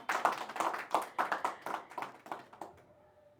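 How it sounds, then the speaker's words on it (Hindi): Live audience applause at a Hindi poetry stage performance, a burst of claps that rings out for about three seconds and then tapers off, with no talking over it. "अपने लिए भी ज़रा तालियां बजा लीजिए"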